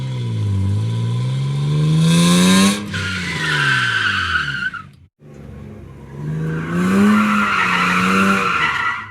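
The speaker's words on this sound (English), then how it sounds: "This is the result I got when searching for the sound of a car drifting." A car drifting with loud, sustained tire squeal and a revving engine, two long screeching passes split by a brief silent gap.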